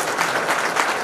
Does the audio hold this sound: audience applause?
yes